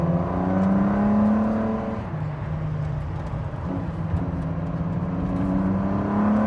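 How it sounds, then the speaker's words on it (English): A Ford GT with an EcoBoost twin-turbo V6 drives on a track, its engine droning steadily with pitch shifting between gears, a moderately loud, continuous whir heard without talk. "The engine, this EcoBoost twin turbo V6"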